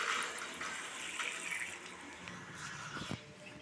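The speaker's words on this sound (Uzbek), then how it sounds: "Dushlar hammasi zo'r ishlayapti." Water runs steadily from a shower in a bathroom, a continuous broadband hiss with a few brief splashes and knocks near the end.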